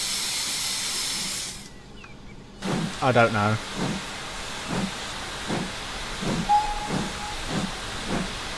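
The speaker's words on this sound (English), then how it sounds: "I do think the cylinders are a bit too loud as well." Standard 4MT tank steam locomotive in a cab ride, cylinders chuffing loudly in a regular rhythm of steam bursts over steady hiss, with a brief whistle-like tone; a voice speaks briefly.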